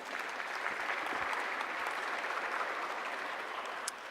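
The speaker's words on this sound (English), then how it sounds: "A big applause once again," A cultural heritage conference audience applauds panelists on the closing day, a dense, even wash of clapping heard from some distance, steady and fairly soft with no voices standing out.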